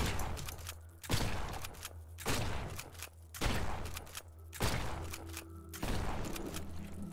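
Repeated bursts of weapon fire in the video game Lumencraft, five loud blasts roughly a second apart as a creature is killed, with no talk.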